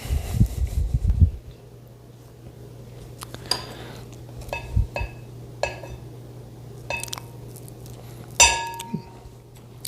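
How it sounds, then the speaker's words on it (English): A microwave brittle candy mixture is stirred in a glass bowl, producing sparse clinks and scrapes of a utensil against glass, with a low hum and some thumps near the start. "Stir it up good."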